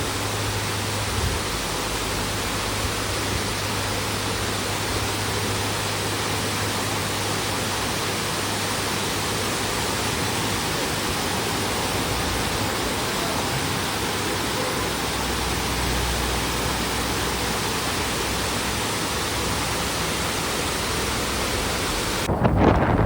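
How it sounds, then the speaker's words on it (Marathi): A continuous broadband roar of falling water, steady and unbroken throughout, like a waterfall heard from fairly close, with no voices. "धबधबा बघा अतिशय सुंदर असा धबधबा आहे"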